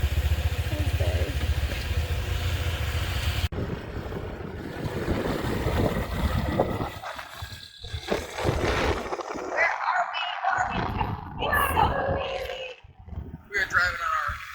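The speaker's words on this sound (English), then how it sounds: "We are driving on our very fast, grand total, probably 25-mile-an-hour scooter" A small moped scooter engine drones steadily at about 25 mph with rushing wind as it rides along, and voices talk over the noise.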